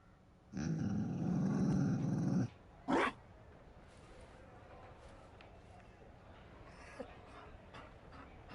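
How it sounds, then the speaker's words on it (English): A Mabari war dog in the Orlais setting of Dragon Age Inquisition lets out one loud, rough growl lasting about two seconds, followed by a short snort and a quiet ambient tail. "You found a dog. They don't breed Mabari in Orlais."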